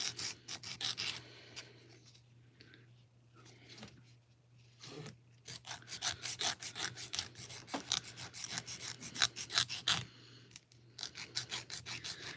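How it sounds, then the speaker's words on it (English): Repeated rapid strokes of a nail file shaping a fingernail into a coffin shape, close and fairly loud, coming in quick rhythmic bursts with short pauses between passes and no speech. "when you're filing the sides, it's better to go like at a diagonal underneath"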